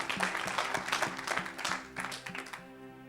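A church congregation claps and applauds together in a dense, lively burst that gradually thins toward the end, with a few voices calling out underneath.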